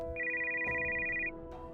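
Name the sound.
phone ringing on a counter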